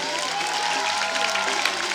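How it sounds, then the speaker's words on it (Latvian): Applause and cheering from a crowd at a youth sports award ceremony in Salacgrīva, Latvia, a continuous lively clatter of clapping with scattered voices. "Aplausi!"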